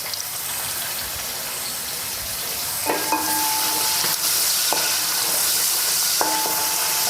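Onions frying in a pan for beef curry give a steady broadband sizzle, with a few brief metallic clinks and scrapes from stirring breaking in partway through.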